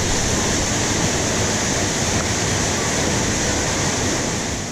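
A steady, loud roar of rushing water in the Los Angeles Aqueduct, unbroken and constant like a heavy flow through a large channel, with no voices.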